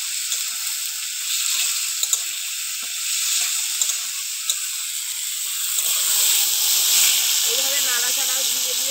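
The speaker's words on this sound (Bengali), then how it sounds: "লবণ আর হলুদ দিয়ে আলুটাকে ভালো করে ভেজে নেব।" Potatoes seasoned with salt and turmeric fry in a pan, giving a continuous close sizzling hiss with a few sharp clicks, and a faint voice comes in near the end.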